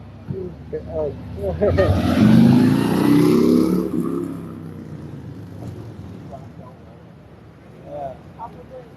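A truck approaches at a Downtown Vancouver police incident, its engine rumbling louder as it passes close by and then fading, with people talking before and after.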